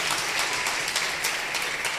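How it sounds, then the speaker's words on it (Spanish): A congregation at a church leaders' seminary applauds loudly and steadily, a dense wash of clapping with no break. "¿Cuántos le pueden dar un fuerte aplauso a Rey de la Gloria?"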